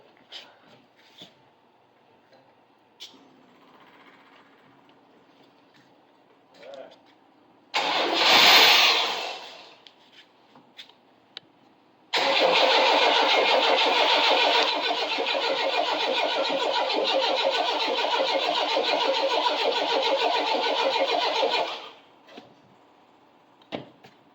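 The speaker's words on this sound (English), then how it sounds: "we'll try it and see if it'll run at least under its own power." A mud toy vehicle's engine with a TBI fuel system cranks in a short burst, then turns over steadily for about ten seconds without catching, loud and close, with faint voices between attempts.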